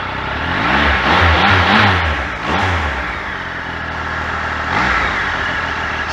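A 2019 Triumph Tiger 1200 XrX motorcycle engine runs close by, rising and falling through a couple of revs over a steady mid-range hum, loud and alone with no talking.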